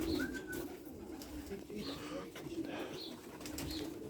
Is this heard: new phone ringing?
no